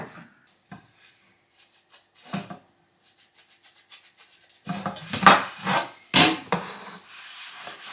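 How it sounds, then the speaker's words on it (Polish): Knife dicing food into small cubes on a wooden cutting board in a home kitchen; scattered soft taps at first, then a dense run of quick, close chopping strokes with no talking. "Taką kostkę potrafię kroić."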